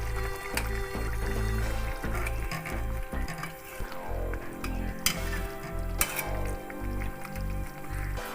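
A spoon stirs prepared cream into shahi mushroom curry simmering in a pan, giving a steady low bubbling sizzle broken by scattered scrapes and clinks of metal against the pan.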